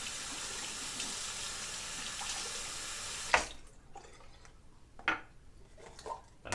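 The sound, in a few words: water running to wet a shaving brush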